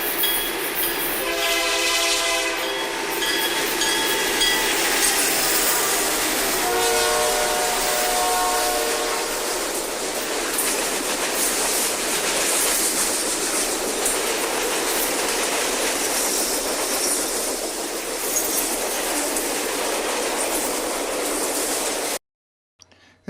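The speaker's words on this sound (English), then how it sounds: "we see a single GP30 highballing a freight, passing the commuter train which was making the scheduled stop" A Penn Central GP30 diesel locomotive hauls a freight train past a commuter train, horn sounding early, then a loud, sustained rumble and clatter of passing cars that carries on until an abrupt cut at the end.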